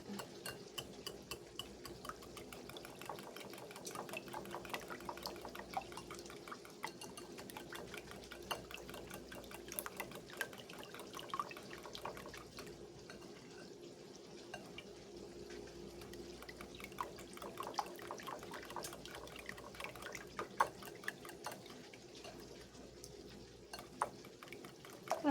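A utensil stirs egg yolks and cream in a pan, a soft, continuous wet swishing with scattered light clinks and drips, fairly faint and steady, with no talking.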